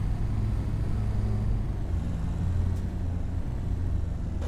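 A car engine left running sounds unhealthy, giving a continuous low, rumbling idle with a rough, uneven texture. It is moderately close, unchanging throughout and free of any talk.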